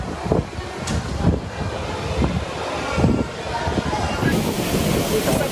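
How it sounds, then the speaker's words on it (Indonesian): Strong gusting wind that shattered the glass entrance doors of a shopping mall and toppled billboards roars steadily as broadband rushing noise buffeting the microphone, with no pauses throughout. "angin kencang membuat kaca pintu masuk Mall Botani pecah dan papan reklame roboh"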